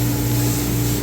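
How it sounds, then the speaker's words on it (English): Spray gun painting a car in a booth with strong airflow: a steady, loud, continuous hiss with a low droning hum beneath, close and uninterrupted. "he's full-blown spraying right now"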